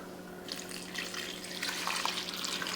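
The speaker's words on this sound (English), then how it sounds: "Let's add our water." Tap water runs steadily into a pot for cooking rice, a continuous close splashing and trickling that builds slightly in intensity, with no talking over it.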